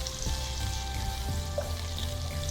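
Spice paste for an aloo anda (potato and egg) curry fries in a pan with a constant, even sizzle and crackle, close and fairly soft, with no voices over it.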